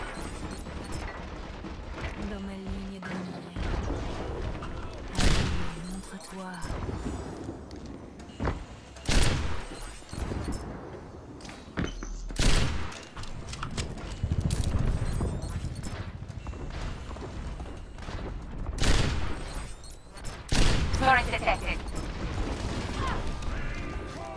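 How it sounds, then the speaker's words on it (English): Rocket barrage explosions in a first-person shooter video game: a dense run of heavy blasts and crashes at irregular intervals, loud and near, with a steady rumble between impacts over nearly half a minute. "Rocket barrage in"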